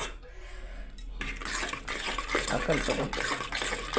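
Cooked dal is stirred and mashed in a metal pot, giving continuous scraping, clinking and wet squelching close up, with faint background noise.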